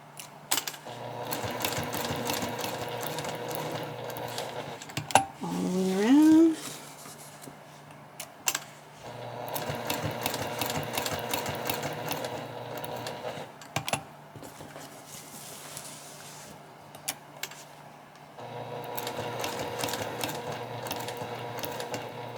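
A sewing machine runs in three steady bursts of stitching through bag fabric, with short pauses and a brief clunk of handling between runs; no one talks.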